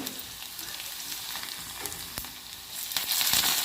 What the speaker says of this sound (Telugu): దంచి పెట్టుకున్న ఎల్లిగడ్డ కూడా వేసుకోవాలి